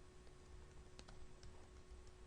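Faint, sparse keystrokes on a computer keyboard while Visual Basic code is typed, a few light clicks scattered over a steady low background hum.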